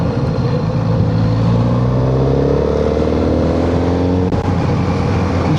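Kawasaki Z900RS motorcycle pulling hard in sixth gear from about 25 to 40 mph, engine note rising steadily and loudly in a smooth climbing drone under strong wind rush.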